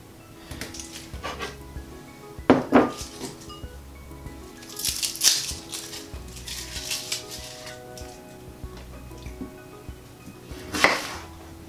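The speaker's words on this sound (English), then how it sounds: "I'm going to start by peeling and chopping the onion." An onion is peeled and chopped with a knife on a board for an aubergine masala, giving scattered soft knife taps and crisp cuts with occasional sharper clicks, fairly quiet.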